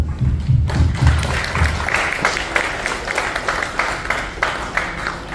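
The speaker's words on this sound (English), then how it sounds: "Please clap for them." A room applauds at the Umo Nota press night at Shangri-La The Fort in Manila, with dull thumps near the start giving way to sustained, fairly loud clapping that continues evenly to the end.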